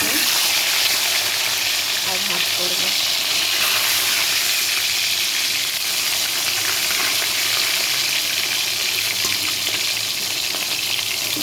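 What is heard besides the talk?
fish frying in a pan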